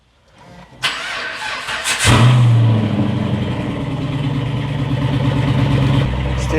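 Holden Commodore with an LS3 V8 on its first start-up after repairs: a cranking whir catches into a loud close roar, then settles into a steady rumbling idle with a slight rise at the end.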